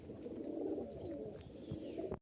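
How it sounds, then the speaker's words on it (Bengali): High-flying Giribaz pigeons coo softly and continuously nearby, a low, faint, murmuring warble with no talking. "দুইটা একদম খুবই সুন্দর চমৎকার কবুতর"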